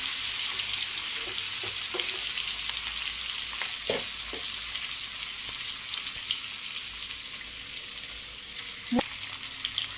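Steady, loud sizzling of fish frying uncovered in hot oil over medium heat, with occasional clicks and scrapes of stirring.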